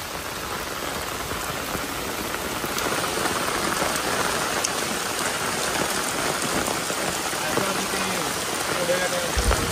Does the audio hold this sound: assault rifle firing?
no